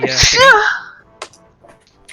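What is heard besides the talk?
sneeze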